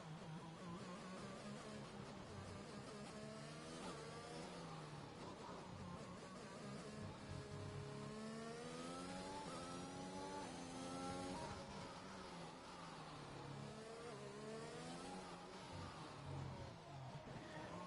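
Race car engines from the F1 2021 game at the Singapore Grand Prix, a continuous high-pitched whine rising and falling with revs and gear changes, several cars overlapping at steady moderate loudness.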